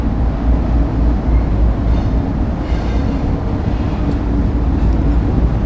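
A long coal train rolls across a trestle bridge near Prince, West Virginia, making a loud, steady, continuous rumble and clatter of railcars, with wind buffeting the microphone and no voices.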